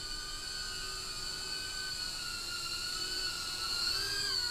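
Tiny motors on a Blade Inductrix FPV+ micro drone whir nearby in a steady, high-pitched whine with shifting tones, constant and fairly faint, without any speech.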